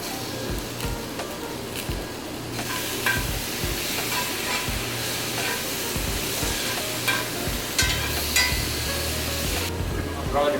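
Canned chipotle chilies hit a hot pan in a ship's galley kitchen, giving a steady, close sizzle with stirring scrapes and clatter throughout.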